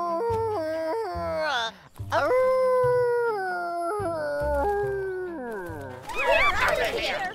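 A cartoon animal howls in long, wavering, sung tones during a children's animated farm show, loud and close, with a burst of noisier vocal sound near the end.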